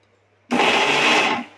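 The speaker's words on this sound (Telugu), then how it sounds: "ఇప్పుడు మిక్సీ వేసేసుకున్నాము" A kitchen mixer grinder whirs into a short, loud burst as it coarsely chops green chillies, onions and salt, running about a second before spinning down; no talking.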